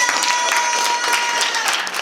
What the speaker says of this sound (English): clap if you want Luke voted off the island